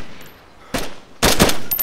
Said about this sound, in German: Schieß jetzt.